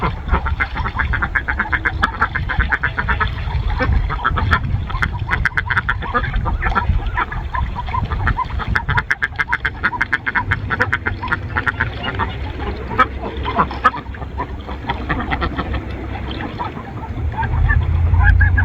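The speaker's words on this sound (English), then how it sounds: "Mumbles is a white Emden goose, and so is Dabbles" White Emden geese honking at a pond, the dense, continuous harsh calls mixed with duck quacks and outdoor noise throughout.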